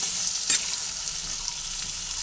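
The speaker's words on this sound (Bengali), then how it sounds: "নুন আর হলুদ দুটো দিয়ে দেওয়ার পরে একসঙ্গে আলুগুলোকে ভেজে নিচ্ছি" Potato pieces fry in oil seasoned with turmeric and salt, making a bright, steady hiss of sizzling with one short burst of spattering early on.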